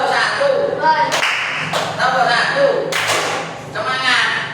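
Schoolchildren in a classroom perform a rhythmic clap routine, with several sharp, loud bursts of claps punctuating an adult's talking and the group's chanting.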